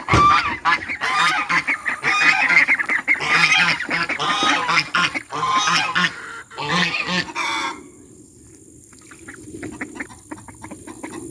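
Ducks on a flower farm honk and quack in a dense, loud, continuous chorus of overlapping calls, then drop to scattered fainter calls near the end.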